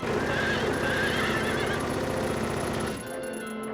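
A carousel horse in the video game Silent Hill 3 whinnies loudly with a long, wavering neigh over a dense, buzzy electronic background, then the sound cuts to a quieter synthetic texture.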